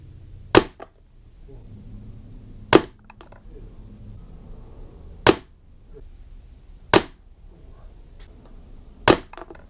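Five sharp, close shots from a Beeman P17 air pistol, each a crisp snapping crack spaced a couple of seconds apart over quiet room background, with no talking.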